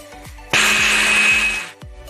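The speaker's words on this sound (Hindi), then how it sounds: "इनको एक मिक्सी के जार में हम डाल के इनका फाइन पाउडर बना लेते" A kitchen mixer grinder jar whirs loudly for about a second, grinding dry-roasted whole spices into fine powder, with a sharp start and a clattering rattle before and after the high-pitched motor burst.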